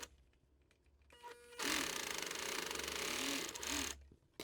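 A sewing machine stitches a seam on a handmade sneaker, starting with a few soft clicks, then running in a loud, steady, rapid mechanical whir for about two seconds before stopping abruptly.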